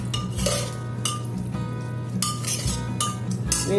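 A spoon stirs a raw jackfruit masala curry in a pot, with repeated scraping strokes and light metallic clinks against the pot over a low background, and no voices.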